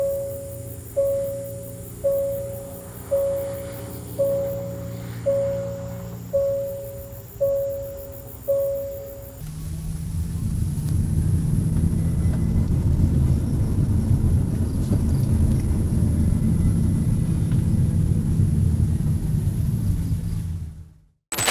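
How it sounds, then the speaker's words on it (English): A Hyundai Kona Electric first gives a series of about eight evenly spaced electronic beeps, like its reversing tone, then moves off with a steady low hum and road rumble while driving on Malaysian roads. "an electric sound as the car moves"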